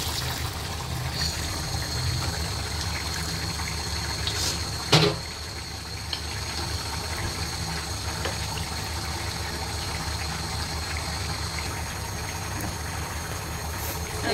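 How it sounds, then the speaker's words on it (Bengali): Water pours steadily into a pan of spiced curry as the cooking continues, a soft continuous gush with one sharp knock partway through and a faint hum throughout. "জল দিয়ে দিলাম।"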